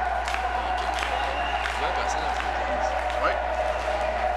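Crowd at a wrestling gala cheering and clapping as wrestler Chopper rallies them, a dense continuous roar of applause and shouts throughout, with a brief spoken word near the start.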